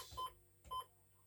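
A slot car track lap timer gives two short electronic beeps about half a second apart, close and fairly quiet with near silence between them.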